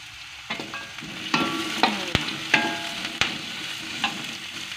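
Sliced carrots stir-frying in a pan over lowered heat, with a steady sizzle broken by repeated scraping and clanking strokes of a utensil against the pan at irregular intervals.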